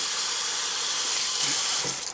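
Tap water runs steadily into a sink while goat meat for curry is rinsed, a loud continuous hiss and splash with slight shifts in flow near the end and no talking.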